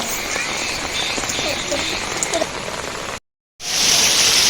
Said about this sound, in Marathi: इकडे आमच्याकडे जाम पाऊस लागलेला आहे